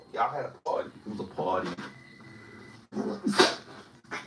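A sharp sneeze bursts out near the end, loud and close, amid casual conversation between people talking in a room.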